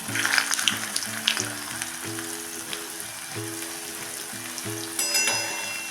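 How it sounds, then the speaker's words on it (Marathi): Masala vadi pieces fry in hot oil over a medium flame, a steady close sizzle and crackle with occasional stirring or handling noises and a background hum. "मिडियम फ्लेमवर आपण आता ह्या वड्याच्या तेला सोडून खरपूस अशा तळून घेऊया"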